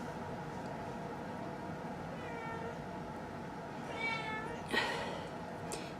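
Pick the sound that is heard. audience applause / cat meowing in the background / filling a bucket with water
cat meowing in the background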